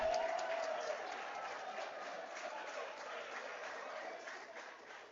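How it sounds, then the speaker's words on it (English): A conference audience at an institute's quality week event applauds steadily, a dense wash of clapping that stays fairly even and slowly tapers over several seconds, with no talking over it. "Let's give ourselves a very resounding round of applause."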